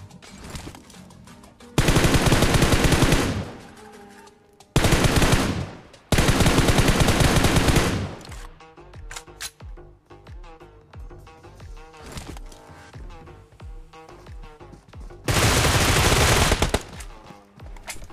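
Automatic rifle fire in PUBG Mobile with Groza and M416 rifles: long, loud, sustained bursts of rapid shots separated by quieter stretches of game sounds and clicks.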